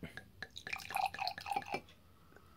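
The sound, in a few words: wine poured through Ecooe wine aerator into glass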